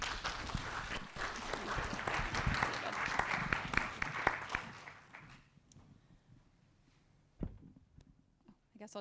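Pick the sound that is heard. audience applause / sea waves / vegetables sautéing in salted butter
audience applause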